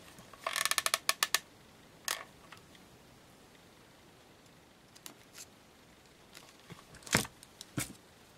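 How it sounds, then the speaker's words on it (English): A small manual die cutting machine for a mixed media craft project is cranked, giving a quick cluster of ratcheting clicks, then scattered isolated clicks and clacks with quiet stretches between, close and fairly soft, no talk. "Getting my little thingy cutting machine."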